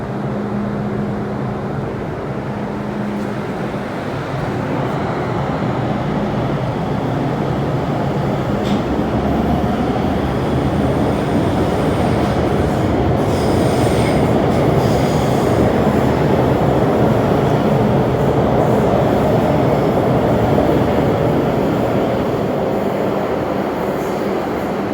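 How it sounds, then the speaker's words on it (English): A retro M-train metro rolls into Tin Hau Station, its rumble building steadily louder and nearer, with high wheel squeals and screeches as it slows. "Retro M train coming in."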